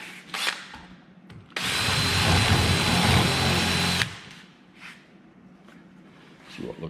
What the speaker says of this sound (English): do a little more drilling.